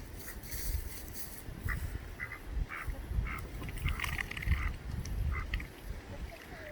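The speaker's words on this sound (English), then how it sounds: "You can see how the ducks are enjoying themselves," Free-ranging ducks quack repeatedly in short bursts while filtering mud on a farm plot, set against steady outdoor background noise at moderate distance.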